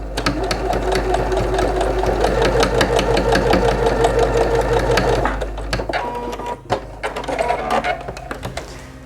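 A sewing machine topstitches a fabric sewing-machine case, its fast steady stitching whirring loud and continuous for about five seconds, then stopping and restarting in short bursts.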